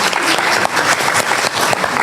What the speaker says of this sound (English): Can we give Daniel a round of applause for